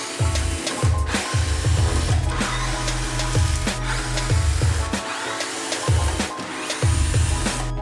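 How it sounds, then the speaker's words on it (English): Repeated rhythmic whirring bursts from a powered screwdriver backing screws out of the top panel of a washer dryer combo, close and loud, several short runs in quick succession. "Let's go ahead and unscrew all the screws holding the top part together"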